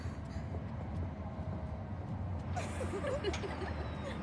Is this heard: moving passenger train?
yes